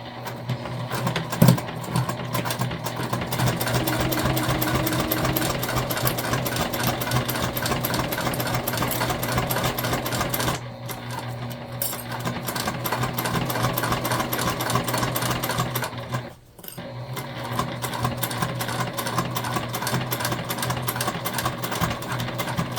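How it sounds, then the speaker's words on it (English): A sewing machine runs back stitches along a curved seam on an oxbow tote bag, a steady close motor hum with fast rhythmic needle thumping, pausing briefly twice before resuming. "And we're back stitching at the beginning and the end"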